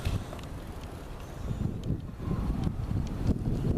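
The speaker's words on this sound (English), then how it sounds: "today we have a windstorm, and it lasts until tomorrow" Gusting windstorm wind on a Los Angeles afternoon, a steady low roar with mic buffeting that swells and rises toward the end, with no talking.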